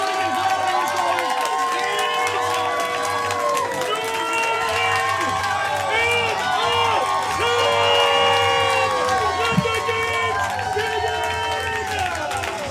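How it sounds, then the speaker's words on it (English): Loud crowd cheering and whooping at a live event called The Main Event, with music-like tonal sounds over steady noise throughout and voices shouting in the mix, after a countdown to ten. "let's keep those applause going"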